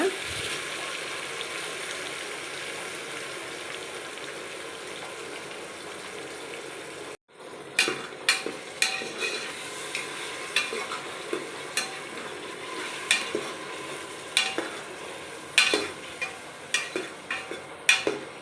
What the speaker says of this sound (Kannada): ಹಸಿ ಸ್ಮೆಲ್ಲೆಲ್ಲ ಹೋಗೋವರೆಗೆ ಹುರ್ಕೊಳ್ಳೋಣ. ಚೆನ್ನಾಗಿ ಈ ಥರ ಹುರ್ಕೊಳ್ಳೋಣ.